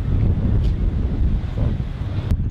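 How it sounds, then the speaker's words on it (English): Strong wind on a rooftop buffets the microphone, a constant loud low rumble with gusty fluctuations and no voices. "It's really windy at the moment."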